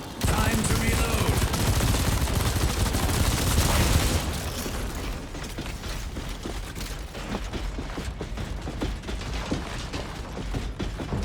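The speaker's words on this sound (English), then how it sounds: "Time to reload." In Steel Hunters, a mech weapon is reloaded after a loud stretch of firing that cuts off abruptly. What follows is a run of quick mechanical clicks and clanks, with a voice speaking faintly underneath.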